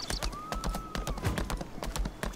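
In the video game Lost Ark, rhythmic clip-clop of horse hooves trotting at a steady pace, close and crisp, with a faint tonal whistle gliding in the background.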